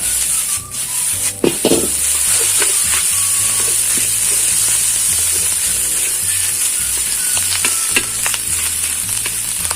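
Fried rice with grilled nam (Thai fermented pork sausage) sizzles and crackles steadily in a hot pan while being stir-fried, with scraping and rubbing of a spatula against the metal throughout, close and fairly loud with no talking.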